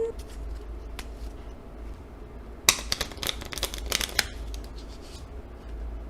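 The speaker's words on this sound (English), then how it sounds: "the cards are shuffled" Playing cards riffle-shuffled at close range in a quiet room, a dense burst of crisp flutter and snapping clicks lasting about a second and a half, framed by brief softer card rustles before and after.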